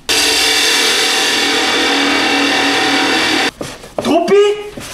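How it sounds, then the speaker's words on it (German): Electric drill boring into a plastic part for a homemade dust extractor: a loud, steady high whine for several seconds that cuts off abruptly, followed by someone speaking. "Das heißt, wir müssen das Ding hier bohren."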